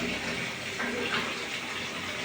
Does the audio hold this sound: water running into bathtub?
yes